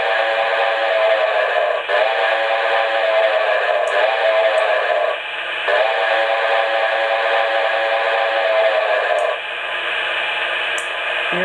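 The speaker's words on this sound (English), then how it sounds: "Here's the whistle." A loud, sustained whistle from a Lionel Mighty 700E Hudson model train blows in long steady blasts with brief breaks, harmonic and slightly buzzy, like a small sound unit.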